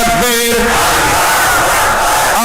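A large crowd at a Bangla religious gathering shouts a loud takbir chant in unison, voices roaring together with a sustained, reverberant swell.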